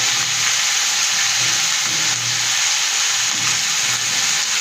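Vegetables frying in a hot pan with salt and turmeric, a loud, steady, close sizzle and hiss that continues unbroken, with faint low stirring sounds underneath and no talking.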